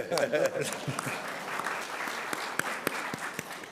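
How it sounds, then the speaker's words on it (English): A crowd claps in steady applause, fairly quiet and a bit distant, lasting a few seconds. "let's give him a round of applause"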